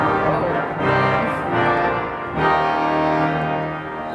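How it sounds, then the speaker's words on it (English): Bombarde and trumpet reed stops on the pipe organ of Århus Cathedral blare out full, brassy chords that swell and change twice, loud and continuous under the church's long reverberation. "more trumpet-like stops called here bombarde and trumpet"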